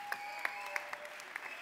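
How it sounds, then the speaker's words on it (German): Brief applause from the audience at the Miss Austria 2018 pageant show, with scattered individual claps over a faint, constant tonal hum. "Bitte einen herzlichen noch mal Applaus."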